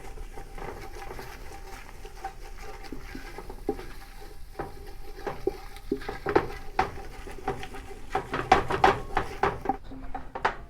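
A spoon stirs flour and fat into a pale blonde roux in a pan for French onion soup: soft scraping and light patter that grow into brisker, louder taps and scrapes against the pan near the end, with no talk.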